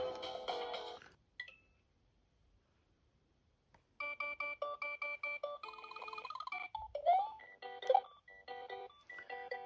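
Super Mario World plays on an SF2000 handheld console with audible sound glitches. A short burst of chiptune gives way to near silence, then choppy, stuttering electronic notes sound in regular pulses, close and clear, with no speech.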